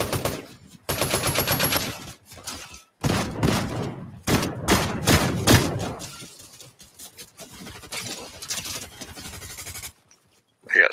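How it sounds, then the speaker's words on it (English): Gunfire in the Fortnite video game, with bursts of loud, rapid shots and a few sharp cracks, broken by short pauses, then quieter rumbling and near silence at the end, with voices talking. "I got sniped from somewhere."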